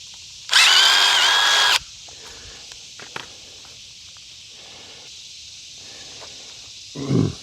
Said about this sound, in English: Drill out the hole for the 17